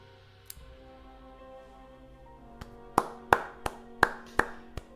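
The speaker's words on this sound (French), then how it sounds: "J'applaudis." Hand clapping sounds at the close of the Shenmue game: after a quiet stretch of soft music, about six sharp, close claps ring out at an uneven pace, each one crisp and separate.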